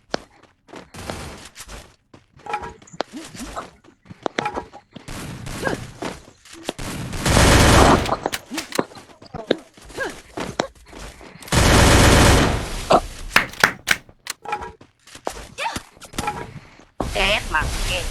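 Gunfire rings out in a video game shootout inside a house, with several loud sustained bursts of rapid automatic fire and scattered single shots mixed with someone talking throughout.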